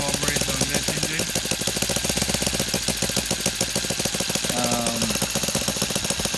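A Saito FA90T four-stroke model aircraft engine, converted to CDI ignition and running on gasoline, runs steadily at high speed with a rapid, loud, buzzing exhaust beat that holds constant.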